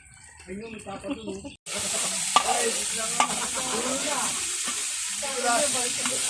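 Pulutan drinking snacks cooking in a pan at a provincial birthday gathering, a loud steady sizzle and frying hiss that kicks in abruptly after a brief bit of voices, with occasional stirring scrapes throughout.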